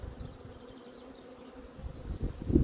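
Honeybees buzzing around an opened hive with several frames of brood on a chilly, windy day in Cornwall, a soft steady hum that swells louder and closer toward the end, with wind noise underneath.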